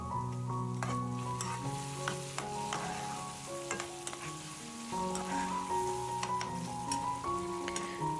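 Chopped tomato, potato and green chilli fry in a pan with a soft, continuous sizzle. Stirring clatters and taps of a utensil on the pan come through clearly, fairly close and without talk.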